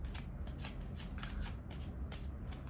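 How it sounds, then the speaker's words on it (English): Tarot cards being shuffled by hand up close, quiet rhythmic riffles and flicks of the deck repeating in short bursts against a soft background. "One more shuffle."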